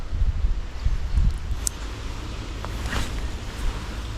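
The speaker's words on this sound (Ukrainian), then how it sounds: "Вітер почав роздувати." Wind rumbles and buffets against the microphone outdoors, with gusts of low roaring noise rising and falling throughout.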